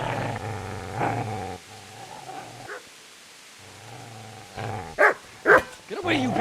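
A dog in the medieval game Kingdom Come: Deliverance growls low and steadily, then lets out several loud, close barks and yips toward the end, with a voice speaking over it.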